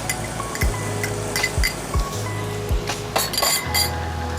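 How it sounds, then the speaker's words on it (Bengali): Capsicum, onion and tomato being stirred in a little oil in a pan, with repeated clinks and scrapes of a spoon against the metal over a low, steady sizzle, close and continuous. "অল্প একটু তেল, ক্যাপসিকাম, পেঁয়াজ, টমেটোটা একটু নাড়াচাড়া করে নেব"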